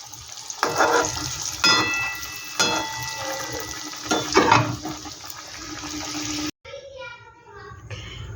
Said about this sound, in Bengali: এটাও আমি একইভাবে ভেজে নেব।